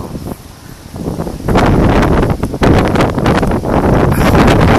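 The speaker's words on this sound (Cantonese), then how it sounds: "今日好大風，你睇住" Strong wind buffets the microphone in loud, roaring gusts beside a hotel pool in Phuket, rising sharply after a quieter start and staying harsh.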